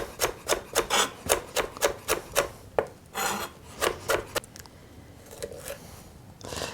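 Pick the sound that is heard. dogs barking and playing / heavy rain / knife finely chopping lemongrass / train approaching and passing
knife finely chopping lemongrass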